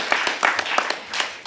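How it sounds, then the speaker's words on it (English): A small audience at a storytelling slam claps briefly after a storyteller's turn, the scattered, uneven hand claps close and moderately loud. "And then you can clap for Ellen."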